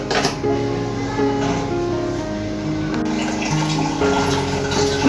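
Running water splashes steadily as blender parts are rinsed and washed, a continuous close gushing with faint tonal hum and small shifts as the flow hits the parts. No one talks.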